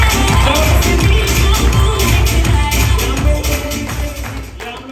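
A large indoor audience at a direct-selling seminar applauds loudly and steadily, a dense, continuous wash of clapping that fades slightly toward the end.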